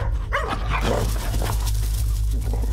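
Several dogs bark and yip in quick, overlapping bursts close by, over a low rumbling background.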